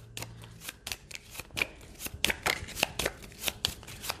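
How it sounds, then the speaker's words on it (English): Pathfinder Adventure Card Game cards are shuffled by hand on a table: a run of quick, crisp riffling and snapping bursts in an uneven rhythm, close up and without talk. "I do need to shuffle this, though"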